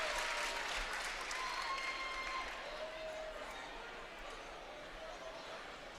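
A crowd at a high school varsity basketball game in a gym roars and claps in a loud, steady wash of noise during a scoring run, with commentators talking over it.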